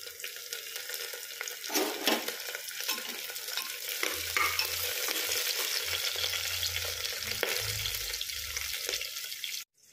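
Curry leaves crackle into hot oil for masala khichdi, a strong, steady sizzle with bursts of spattering and stirring scrapes that runs for almost the whole stretch, then cuts off abruptly at the very end.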